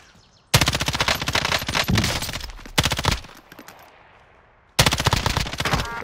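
Automatic gunfire from a Call of Duty match rattles out in long, loud bursts, rapid rounds crowding together, then stops briefly before another close, heavy burst kicks in.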